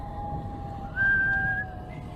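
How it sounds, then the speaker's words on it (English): A single sustained whistled note from a person, steady and clear, rising slightly at the start and held for under a second over a low background hum. "he began to whistle"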